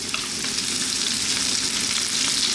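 Thin-sliced carrots and peppers sizzle in a hot wok for sweet and spicy Chinese fried fish, a loud, steady hiss of frying that holds throughout with faint stirring scrapes and no talking.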